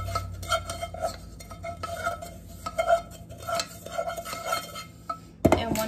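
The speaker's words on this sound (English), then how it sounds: "So you just stir them all together." A spoon stirs crushed rosemary leaves in a bowl, producing a steady run of soft clinks and scrapes, close and moderately loud, with a sharper clatter near the end.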